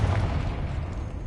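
A Confringo fire spell detonating in Hogwarts Legacy, a loud, dense burst of rumbling explosive noise that holds for about a second without any clear decay.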